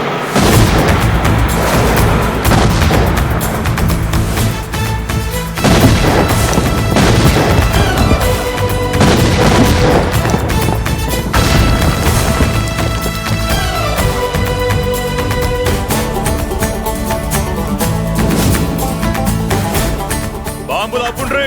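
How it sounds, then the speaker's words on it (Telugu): Bombs go off as repeated loud booms and crashes over a thick, continuous wash of noise, densely packed and sustained throughout with hardly a pause. "బాంబులు ఆపుండ్రీ."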